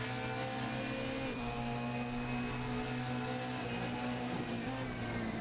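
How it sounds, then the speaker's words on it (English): A BMW 320 touring car engine drones steadily with a high transmission whine over it, continuous and fairly loud, no voices, in the racing game Assetto Corsa. "you do get a nice bit of transmission whine"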